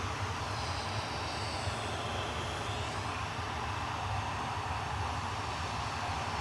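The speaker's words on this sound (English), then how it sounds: "This is 737-800 with flight 2616." A Boeing 737-800 jet airliner takes off from Manchester Airport, a steady distant rumble of engines with a faint rising whine, heard alone without voices.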